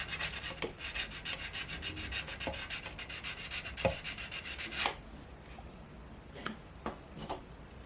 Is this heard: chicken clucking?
no